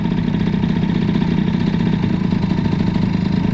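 A Gilardoni Booster 50 scooter engine idles close by, its steady, loud, buzzing putter holding an even rhythm throughout with no voices over it.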